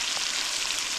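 Mushrooms fry in butter in a pan with a steady, dense sizzle and crackle, close and unbroken throughout the brief moment, with no voices.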